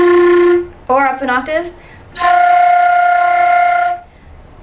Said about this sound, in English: it's when you roll your R while blowing air through your flute